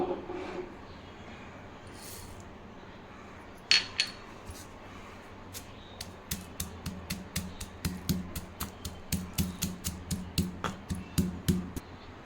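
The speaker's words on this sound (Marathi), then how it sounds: "हे मिरी येणं हे ही खलबत्त्यामध्ये असं जाटसर वाटून घ्यायचे आहे" Black pepper is coarsely pounded in a mortar and pestle for mixed urad and moong dal papad, a run of steady, evenly spaced hard knocks picking up after a quiet start, close and fairly loud.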